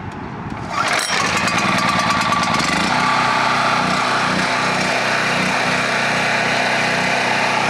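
A small engine left unused for a while fires up on choke in cold weather with a sharp catch, then settles into a loud, steady, buzzing idle with a faint rhythmic pulse, close by and without talk.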